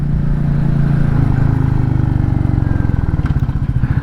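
A Royal Enfield Meteor 350 motorcycle's single-cylinder engine thumps steadily at cruising speed with a loud, rhythmic low pulse and wind rush, close up and continuous, with no talk.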